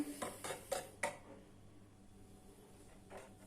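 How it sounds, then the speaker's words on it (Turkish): A whisk stirs an oil, egg and sugar mixture in a bowl for a spinach cake, making four quick metallic clinks against the bowl before fading to near silence. "Şimdi birkaç dakikada sıvı yağ, yumurta, şeker karışımını güzelce karıştırıyorum"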